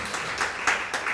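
Church worshippers at a Sunday service clap to welcome back a member recovered from surgery, a brief burst of a few distinct, fairly close claps in uneven rhythm.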